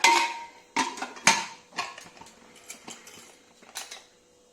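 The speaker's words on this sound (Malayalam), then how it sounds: "നമുക്ക് കുക്കർ അടച്ചു കൊടുക്കുക." A pressure cooker lid clanks shut in a series of sharp metallic knocks and rattles, close by, trailing off into quiet.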